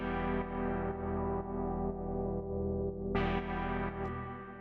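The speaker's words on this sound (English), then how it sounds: "So then the last thing we have is this pad" A sustained synthesizer pad from an Ableton drum track plays alone, thick, distorted and effect-laden, swelling in steady pulses with a brighter chord change near the end.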